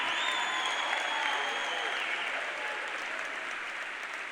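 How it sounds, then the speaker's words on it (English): Large audience applause at a motivational talk, a dense, steady wash of clapping and crowd noise at a constant level from start to finish, with a faint whistle early on. "Give yourselves a round of applause."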